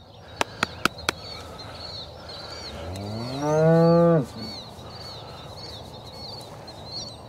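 A cow on a farm being readied for corn planting gives a single loud, drawn-out moo near the microphone, preceded by a few sharp knocks and backed by faint bird chatter.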